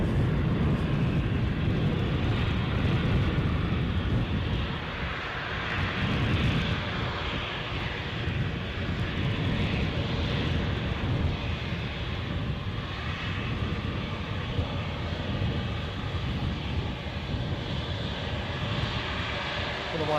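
An Air France Embraer 190 jet at gusty Edinburgh airport gives a broad, sustained engine roar, loud and steady for about twenty seconds, with wind rumble mixed in.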